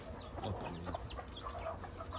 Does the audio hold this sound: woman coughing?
no